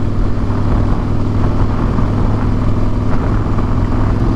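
A Harley-Davidson Fat Boy cruiser motorcycle rumbles loudly and steadily while riding along a scenic road, its deep engine drone constant with no breaks.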